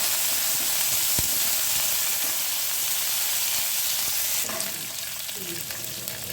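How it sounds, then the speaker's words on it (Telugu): Onions, green chillies and curry leaves fry in hot oil and get stirred, a loud, dense sizzle that runs steadily, then eases slightly as stirring scrapes come through near the end. "ఆనియన్స్, పచ్చిమిర్చి, కరివేపాకు వేసుకొని కలుపుకోవాలి."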